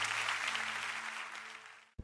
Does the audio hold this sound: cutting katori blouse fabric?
no